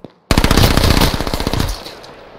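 Loud, dense automatic gunfire from the video game H1Z1: a single rapid burst lasting over a second that trails off, with a brief click just before it.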